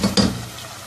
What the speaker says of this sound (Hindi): 3 कप पानी के शामिल कर देंगे।